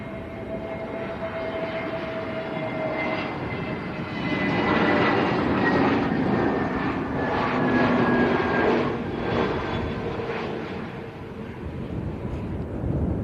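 An airliner lands at Lanzarote Arrecife airport in a stiff crosswind, its jet engine roar rising and swelling midway, then easing as it rolls out, loud and continuous with no voices.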